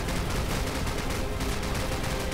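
Mounted machine gun firing in Call of Duty, a continuous loud roar of rapid shots with steady unbroken density, close and filling the whole stretch with no voices.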